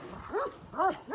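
A Kangal dog, a large Turkish livestock guardian breed, gives three deep, loud barks close by in quick succession, with short gaps between them and no talking.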